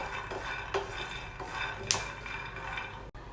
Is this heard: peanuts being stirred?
yes